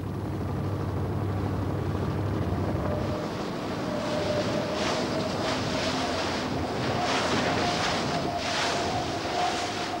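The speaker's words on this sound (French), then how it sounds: "Quel vent, Eric, on entend les rafales, c'est énorme." Strong wind roars and buffets the microphone in heavy gusts on an island, with a rushing, open-water feel and no voices.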